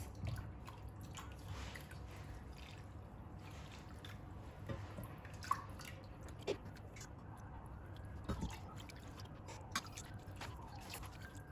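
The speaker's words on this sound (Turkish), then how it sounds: "Şimdi şerbet ve tatlıyı buluşturuyoruz." Warm syrup poured over warm kadayif dessert, heard as faint, sparse dripping and soft liquid splashes, quiet and close, with no talking.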